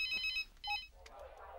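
Telephone ringing while a call is placed, two short electronic trill bursts close by, followed by a faint tone and soft background noise.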